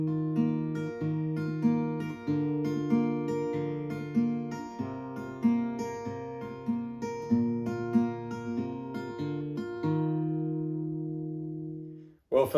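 A guitar plays a song alone, with a bass line and chords picked together in a steady rhythm, ending on a ringing, fading chord.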